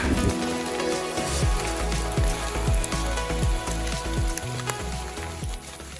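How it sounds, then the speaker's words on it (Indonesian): Heavy rain pours steadily over a mountain hiking trail, a dense close wash of drops pattering on surfaces with scattered louder hits, continuous through the whole stretch and with no talking. "Ini kita diguyur hujan lagi, jadi kita berhenti bentar."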